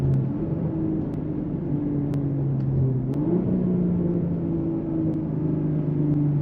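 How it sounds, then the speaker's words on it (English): A BMW M340i's engine hums at night from inside the cabin, a steady, low, droning rumble with smooth shifts in pitch as the car cruises and eases through gears, loud and constant with no talking. "This car is so addicting to drive just like that, bro."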